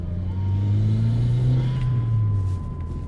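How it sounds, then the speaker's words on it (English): A Porsche GT4 sports car engine drones loudly from inside the cabin under acceleration, pitch rising slightly then easing off, a steady low rumble with no talking. "when you put your foot on the accelerator, you can hear the fuel pump working harder"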